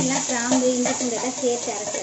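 Soft sizzling and stirring as ginger-garlic paste and bay leaf sauté in a pan for Chettinad chicken gravy, under a steady background hum, with a voice humming or talking faintly throughout.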